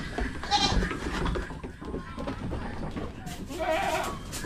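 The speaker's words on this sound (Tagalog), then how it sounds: "Wala yang ganang kumain yung kambing na yan." A goat that has lost its appetite, a mother recovering from illness, bleats a couple of times close by, with background farmyard noise between the calls.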